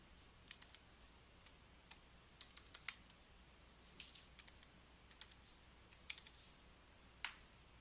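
Keys tapped on a computer keyboard while entering data into an Excel spreadsheet, a light, uneven patter of clicks in short bursts with pauses, fairly quiet and close, no voices.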